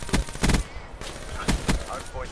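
Video game gunfire, a few sharp close bursts of shots in quick succession, with brief quiet gaps between them.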